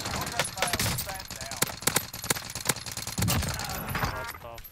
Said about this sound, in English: There's one shooting me on the ground.